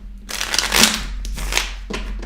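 A tarot card deck being shuffled by hand, a few riffling bursts of crisp card noise close up, with brief pauses between them and no talking.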